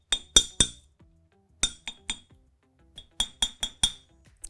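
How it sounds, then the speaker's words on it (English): Wire wrapped around a metal mandrel is struck with light taps for geometric hoop earrings, giving sharp bright metallic clinks in quick clusters of two to four with short pauses, close and without speech. "wrap it around our mandrel. And just keep the loop off center, and just give it a few little taps."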